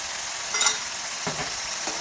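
Paneer masala, garam masala and coriander powder being stirred in a hot pan, with a steady sizzle and a few soft scraping strokes of the spoon, close and clear with no talking.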